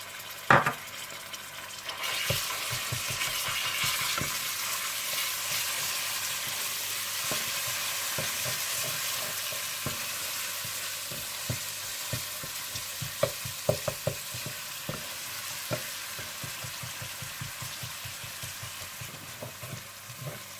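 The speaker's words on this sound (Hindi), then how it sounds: "आप इसमें अदरक लहसुन डालकर भून लीजिएगा।" Ginger and garlic sizzle steadily in hot oil in a pan for a chikar cholay dish, with frequent scraping and stirring clicks of a spoon over the continuous frying hiss.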